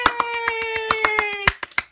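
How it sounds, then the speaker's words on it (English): A group of people clapping their hands, a string of sharp claps at an uneven, loosely regular rhythm, close and fairly loud, with a faint tonal hum running underneath. "Everybody clap."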